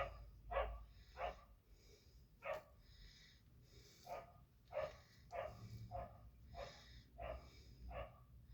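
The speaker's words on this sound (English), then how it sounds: "My roommate with his loud ass dogs." Roommate's dogs barking indoors in short repeated bursts, about a dozen barks spread steadily over the stretch, moderately close over a low background hum.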